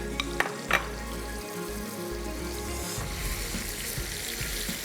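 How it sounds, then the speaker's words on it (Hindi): Boneless chicken leg pieces frying in a pan, a steady close sizzle running throughout with a few clinks of a utensil stirring near the start. "चलें जी, चिकन को डाल के करना है फ्राई"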